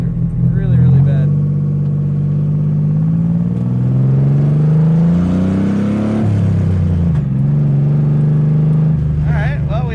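A 1985 C4 Corvette-based kart's engine drones loudly and rises in pitch as it revs, then settles back, with speech faintly mixed in at moments.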